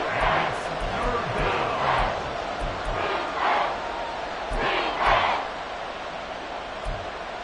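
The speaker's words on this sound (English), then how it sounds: "The Arrowhead crowd in full roar." A loud, steady stadium crowd roar at Arrowhead during a Chicago versus Kansas City football video game on PS5, a dense wash of cheering that swells in waves with no speech.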